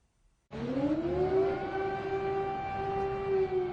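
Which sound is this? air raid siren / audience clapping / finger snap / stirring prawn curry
air raid siren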